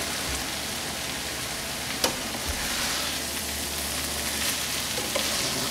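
Banana heart sisig with vinegar being stirred in a pan makes a continuous close hiss and sizzle, with an occasional soft clink of the utensil.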